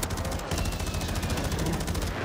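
Gunfire from the Razorback weapon in a shooter game rattles out as a rapid, evenly spaced burst of loud shots, continuous apart from one short break near the start.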